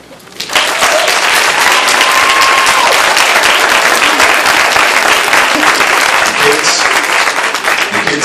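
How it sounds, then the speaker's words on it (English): Loud, sustained audience applause for a group of standing kids at an MLK youth day event, starting suddenly and holding steady as a dense wash of clapping. "And I'd like a round of applause for them."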